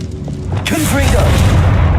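A Confringo spell blast in a Harry Potter video game, a sudden loud booming burst partway through that rolls into a sustained rumbling crackle, following a brief shouted voice.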